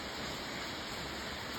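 Steady rain pours down as a dense, even hiss of falling water, continuous and unchanging for a couple of seconds, with no voices.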